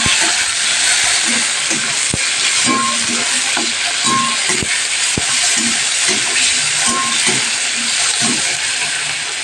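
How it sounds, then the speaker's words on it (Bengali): Spice paste with tomato sizzling and frying in oil, a loud steady hiss with small pops and scattered clinks of utensils against the pan, close by and without speech. "মশলাটা কষাচ্ছে আস্তে আস্তে"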